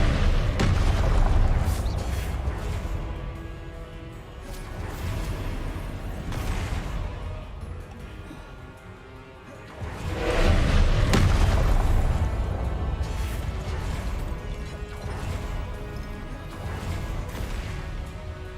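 Confringo blasting spell explosions in the Hogwarts Legacy video game: repeated loud booms and crashing impacts in quick succession, with the fight noise continuing steadily between blasts.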